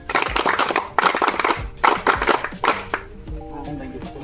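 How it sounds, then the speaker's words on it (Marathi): Group of visitors clapping in unison on a count at a sugar factory workers' settlement, a dense burst of applause in rhythmic waves that fades near the end, with voices around it. "सगळ्यांसाठी आपण या ठिकाणी लयबद्ध टाळ्या बाजू द्यात एक दोन तीन स्टार्ट"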